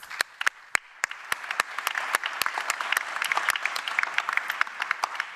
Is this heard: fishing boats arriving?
no